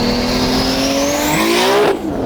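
A 1000 hp Toyota Supra engine revving hard on turned-up boost, a loud, close, rising roar that climbs in pitch before dropping off sharply at the end.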